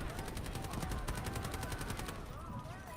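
A CI-19 rifle fires a rapid, sustained automatic burst of evenly spaced shots in the Delta Force video game, loud and close for about two seconds before cutting off into background game sound.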